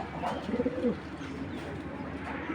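Racer pigeons offered for sale coo nearby, with a short burst of soft, rolling coos early on and then a steady low ambient hum.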